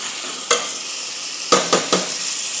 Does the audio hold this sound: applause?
no